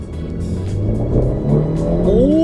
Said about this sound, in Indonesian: Oke, kita coba kira-kira dapat berapa akselerasinya.